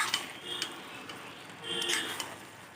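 Cooked rice and banana flower in a pot being stirred with a spoon, a couple of quick scraping, rattling strokes over a faint background hiss, close and soft, no voices.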